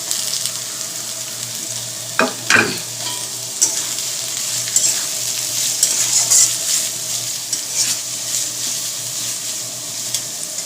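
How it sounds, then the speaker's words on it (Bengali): Mixed vegetables frying together in a pan give a steady, close sizzling hiss, with a couple of sharp stirring clatters early on and a few lighter scrapes after. "ওগুলো ভালো করেই ভেজে নিই ওই জন্য সবগুলো একসাথেই দিয়ে দিলাম"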